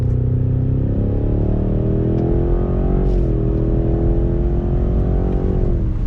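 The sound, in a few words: 2019 Cadillac CT6-V Blackwing accelerating in track mode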